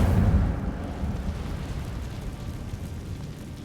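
The Incendio fire spell cast in a wizard game, a roaring whoosh of flame that starts loud and then settles into a steady, rumbling burn that fades slightly over a few seconds, with no talking.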